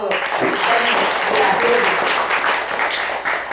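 An audience at a devotional storytelling event claps steadily in a sustained round of applause. It is loud and continuous, with a few voices mixed in.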